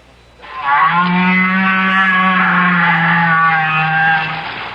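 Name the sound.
whale vocalization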